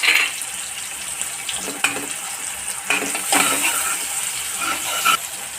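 Tomato, ginger and garlic stirred with onion in a hot pan, a steady sizzle and frying hiss with scraping stir strokes close by, no voices.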